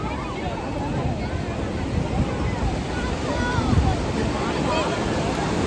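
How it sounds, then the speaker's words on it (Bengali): A steady wash of surf and wind noise from the Bay of Bengal at Puri beach fills the scene, with big waves and soft murmuring voices in the background. "সমুদ্রের এই আওয়াজটাই মানে একদম মন ভরিয়ে দেয়"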